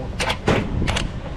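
An impact gun fitted with a large socket works on a Chevrolet Silverado with a 6.2 engine, giving three short, sharp rattling bursts close by.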